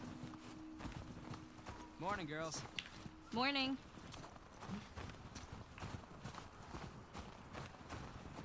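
Horse hooves clip-clopping on the ground in the video game The Last of Us Part 2, a steady walking rhythm at close range beneath brief spoken greetings and a horse's whinny.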